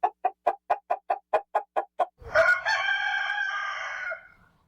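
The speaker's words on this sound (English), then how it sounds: "the sound of a rooster's crow" A rooster crows on a working family farm, starting with a quick run of about ten sharp clucks and then breaking into one long, loud, close cock-a-doodle-doo that fades out after roughly two seconds.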